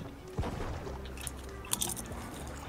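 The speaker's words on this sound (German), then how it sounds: "wer frisst gerade Chips?" Someone crunches and chews potato chips close to a microphone during an online Fortnite match, with irregular crisp bites over steady game background noise.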